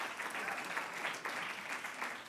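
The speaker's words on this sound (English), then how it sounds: "He hasn't had that much applause in a long" Audience applause at a poetry reading, a soft, steady patter of many hands clapping that continues throughout at a distance.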